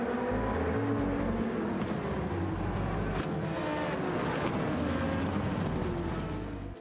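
Citroen DS swapped with a Porsche flat-six engine, lapping the Nurburgring in Gran Turismo 7: a loud, steady engine roar with rising and falling revs and gear changes, continuous and close, with no talk.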